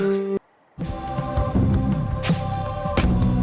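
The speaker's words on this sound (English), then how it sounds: "a music disc that looks like this and sounds like this" A dark, eerie music disc track from the video game Yeeps, with sustained droning tones and a low rumbling texture, starts after a short silence, with occasional swelling hiss-like accents.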